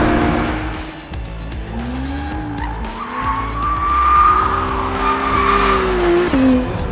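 An Acura NSX Type S driven hard on a race track in track mode, engine note rising and falling through gear changes with squealing tires in corners, loud and close from onboard.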